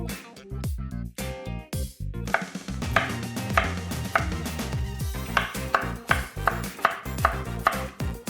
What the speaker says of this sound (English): I'm gonna start by cutting up a pineapple and getting it chopped down to size